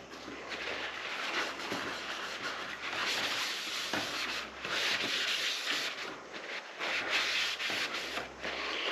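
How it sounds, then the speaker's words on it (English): A dry rag wipes down a Harbor Breeze Valdosta 20-inch caged outdoor fan, making close rhythmic rubbing and scrubbing strokes in repeated bursts with short pauses. "we're just going to take a dry rag and we're going to dry everything that we wiped off"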